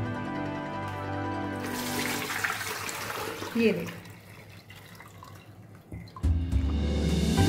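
Water splashes and pours steadily over vegetables for a few seconds to rinse them, then gives way to quieter dripping. A voice speaks briefly.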